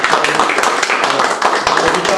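A lecture audience claps together after a talk on the Czech National Revival, a dense, steady patter of many hands filling the room, with a few voices mixed in underneath.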